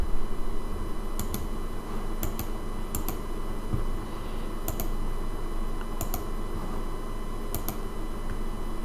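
A computer keyboard key, the Shift key, pressed repeatedly while working in Photoshop, giving a handful of sharp paired clicks spaced a second or so apart over a constant low hum.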